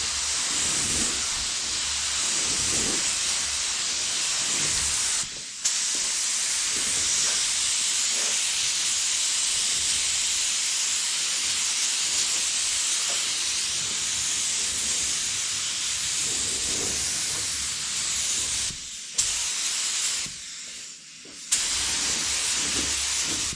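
Spray gun applying candy apple paint over a marbleized finish, a continuous close hissing spray running almost unbroken, with only a few brief pauses between passes.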